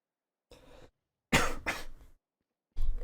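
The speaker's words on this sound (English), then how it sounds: "Sorry for the coughing" Three separate coughs, one softer then two loud harsh bursts, with short silences between, close to the microphone.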